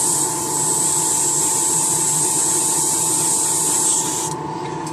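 Steady hiss of a spray can coating model airplane parts for a Super Zinger build, continuous and close for about four seconds before cutting off into a softer background hum.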